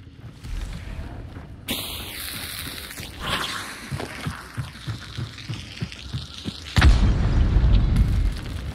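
A trap detonates inside a house in Hunt: Showdown, a sharp burst at mid-clip followed by a heavy, loud low rumble near the end, over faint ambience and scattered thuds.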